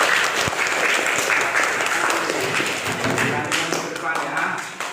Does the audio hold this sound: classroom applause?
yes